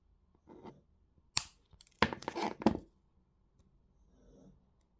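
Wire cutters snip copper wire while a wire-wrap ring is being made, giving a few crisp clicks and cuts with soft handling rustle between them, close and alone.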